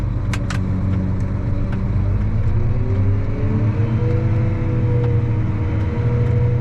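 A warmed-up tractor engine pulls away in first gear during a peanut harvest, a steady loud diesel rumble with rising drone as it gets under way, close and continuous with no talk.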